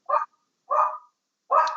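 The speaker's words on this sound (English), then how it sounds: "Excuse my dog." A dog barks three times in a steady rhythm, each bark short and close, clearly separated by silence, with no talking.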